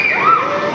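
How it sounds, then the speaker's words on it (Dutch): Water sprays from roof sprinklers over an indoor swimming pool at Omnium in Goes, Netherlands, a steady loud hiss and splash in the brief moment, with a voice speaking over it. "Sproeiers in de dak."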